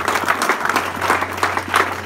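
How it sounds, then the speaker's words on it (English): A church congregation gives a short burst of clapping during a morning service, many hands beating in loose rhythm, fairly close and lively over a low steady hum. "Let's bless the Lord this morning with a clap."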